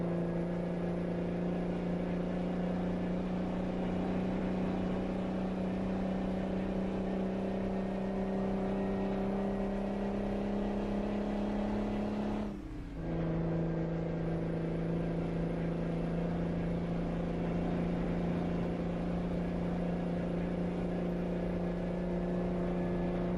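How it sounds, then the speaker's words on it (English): A Mack R truck in American Truck Simulator hauling lumber labours uphill in Oregon, its engine droning at a steady high pitch, then a brief drop and jump in pitch at a gearshift before the constant engine note returns. "1300 RPM is the max power for this engine."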